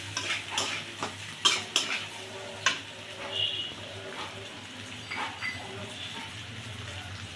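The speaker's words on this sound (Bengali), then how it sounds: "মাছের কাঁটা দিয়ে একটু নেড়ে চেড়ে নেব।" Fish bones are stirred in a frying pan with a utensil, giving soft irregular scraping and clinking over a faint sizzle and a steady low hum, close and fairly quiet.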